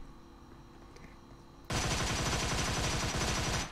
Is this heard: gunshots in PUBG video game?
yes